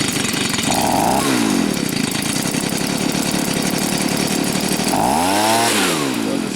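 A Stihl leaf blower with a fault that keeps it from staying running drones steadily at idle and close range, its engine note surging upward twice in brief revs before settling back.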